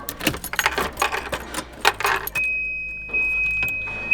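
A set of car keys jangles in a series of quick metallic clinks as the ignition key is turned to run in an LS6-swapped turbo Volvo wagon, followed by a steady electronic chime tone.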